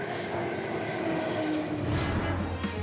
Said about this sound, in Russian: Поезд подходит, я успею.